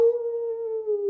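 A jackal howl, one loud, steady, sustained tone held evenly for about a second, heard on its own with no talking.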